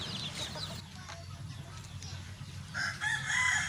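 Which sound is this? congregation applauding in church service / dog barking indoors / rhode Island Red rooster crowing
rhode Island Red rooster crowing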